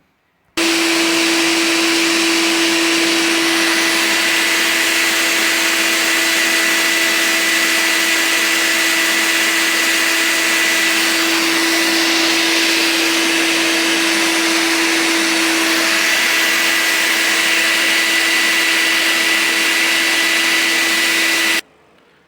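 Loud, steady whine of a vacuum cleaner running on turbo, switching on abruptly, holding a constant pitched motor drone with rushing air for about twenty seconds, then cutting off.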